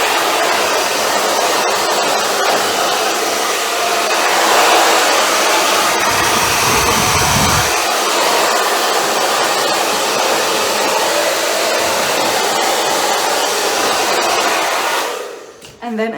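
A hair dryer blows cool air through long, frizzy hair during a blow-dry, a loud, steady rushing roar that briefly deepens midway and keeps going until it cuts off near the end.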